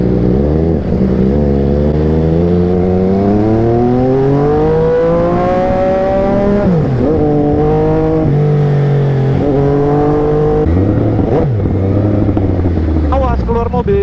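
A modified rare Italian motorcycle engine revs continuously and loudly up close, its pitch sweeping up and down through repeated throttle blips over several seconds, with faint voices underneath.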